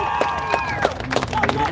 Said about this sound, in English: give yourselves a big, loud cheer